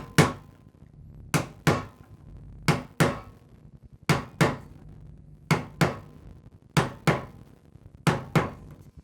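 A chisel is struck with a mallet to chop out waste wood from a dado or housing joint, worked with hand tools. Sharp hollow knocks come mostly in close pairs at a steady rhythm, loud and near, with no talking.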